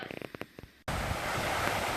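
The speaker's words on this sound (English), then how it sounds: "looks like the beaver hasn't done his job properly here, or he's just letting out some water" Water rushing out past a beaver dam in a provincial park, a loud steady roar of flowing water that cuts in abruptly after a brief stretch of quieter noises.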